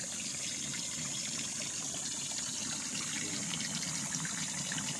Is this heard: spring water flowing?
yes